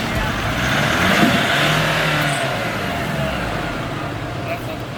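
An off-road vehicle drives along a wet, muddy trail, its engine a steady, loud, continuous drone with a brief swell early on and no pauses.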